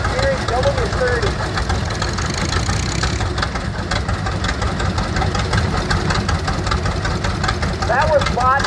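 A 1938 McCormick W30 vintage tractor engine running in a tractor parade, giving a steady, loud, rhythmic chugging throughout, with a voice over a loudspeaker talking above it.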